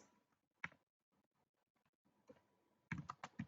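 Typing on a computer keyboard while writing an annotation in a UiPath workflow: a few faint, scattered key clicks early on, then a louder cluster of taps near the end, with no talk.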